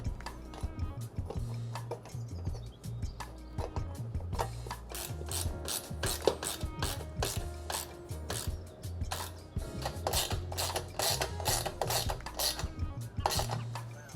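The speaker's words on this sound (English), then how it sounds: "come in with a ratchet and tighten it all" A ratchet clicks in rapid bursts while tightening hardware on a quadcopter frame, with close, rasping strokes repeating steadily, and a low hum runs underneath.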